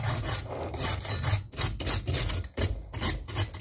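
Steady rubbing and scraping strokes clean packed gunk from the teeth of a chainsaw chain before sharpening, a close, continuous rasp with short pauses and no talking.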